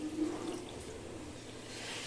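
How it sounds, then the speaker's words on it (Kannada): Water poured into a pressure cooker with rice for bisibelebath, a faint continuous splashing and trickling pour that stays low and steady, with no talking. "2 ಗ್ಲಾಸಷ್ಟು ನೀರು ಹಾಕಬೇಕು."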